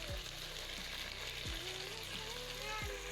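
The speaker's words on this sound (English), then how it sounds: "the soup in the meat was getting done, and the meat was browning very well." Meat browns in a pot of soup, with the beef for a leafy okra (jute mallow) dish sizzling and frying steadily and a few soft stirring knocks. The sizzle is close and constant, and a faint voice sits under it.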